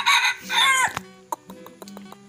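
A wild junglefowl's rooster-like crow rings out loudly, then gives way to a series of short, sharp clucks.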